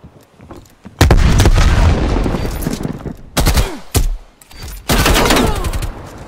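Frag grenade blast and bursts of gunfire in Call of Duty Black Ops Cold War Zombies: a loud sustained barrage kicks in after a quiet second, broken by sharp separate shots and another heavy burst near the end.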